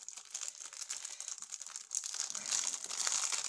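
Plastic packaging for a Christmas diamond painting kit crinkles and rustles continuously up close as it is unwrapped, steady and busy with no voices.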